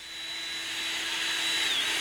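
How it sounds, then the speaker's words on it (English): A power drill whirs steadily with a scour pad pressed against a wet car headlight, a continuous close buzzing drone that builds slightly in loudness, with no talking. "Turn on the drill and with a small amount of pressure, press the scour pad to the headlight."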